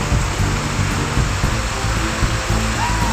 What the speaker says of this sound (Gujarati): ગામ બાંકોડી જીગામાં સખત પાણી આવવાથી બધું ડૂબી ગયું છે